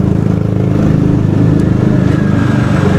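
A motorcycle engine drones steadily and loudly while being ridden near Concepcion, holding a continuous rough hum with slight throttle variation throughout.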